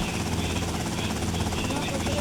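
Helicopter flying in GTA Vice City, a dense, steady rotor and engine roar filling the short stretch at constant loudness, with voices talking over it.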